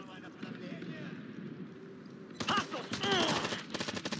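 Video game gunfire in Ghost Recon Future Soldier: a quiet stretch of ambience, then a burst of loud, rapid shots and impacts in the second half, with shouted voices nearby.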